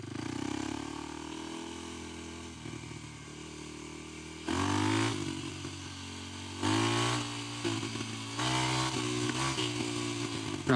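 A Kawasaki KLX300 dirt bike without its secondary plate rides in second gear, its engine droning up close and surging in several throttle bursts between steadier stretches, no talk.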